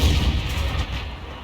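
A tank cannon in a tank video game, aimed at a Mouse heavy tank's turret: a loud, deep, booming shot that rings out and decays over a second and a half, alone with no talk.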